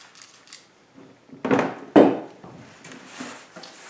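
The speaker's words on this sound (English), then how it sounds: "so I can spray a little bit" Two short, close bursts from a spray bottle misting water onto a watercolor sunset wash, with faint quiet handling sounds between them.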